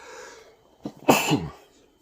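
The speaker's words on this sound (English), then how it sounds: "Excuse me, y'all. I had to sneeze." A single sharp sneeze from a man, preceded by a short inhaled catch, close and loud against a quiet background.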